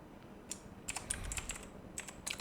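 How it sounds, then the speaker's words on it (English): Fingers tap out a formula on a computer keyboard, a quick, uneven run of light, close key clicks with short pauses between bursts, with no voices. "You're just going to type in the same formula that I am doing right now."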